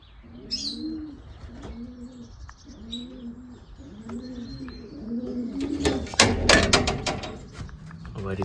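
Racing pigeons coo in a loft in a steady series of low, rolling calls, close and clear, with a few higher chirps and a burst of fluttering wings and rustling toward the end.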